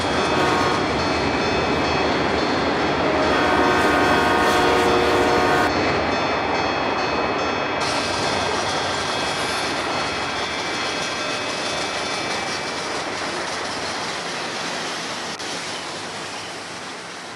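An ALCo-powered train makes a sweeping run-by at Huntington, Long Island, a loud, close roar of engine and rolling cars with a horn tone partway through, gradually fading as it passes.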